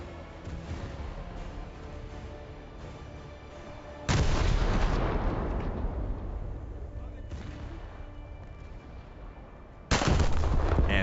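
Heavy naval gunfire from a ship's 4.5-inch gun in War Thunder. Two loud, broad booms with long rumbling tails sound over a steady background of ship noise, with voices faintly present.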